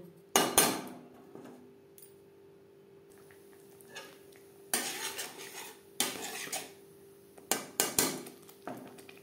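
A spoon scrapes and clanks against a pan while broccoli masala is stirred over a low flame. Bursts of metallic scraping come in irregular clusters, with quieter gaps of faint background between them.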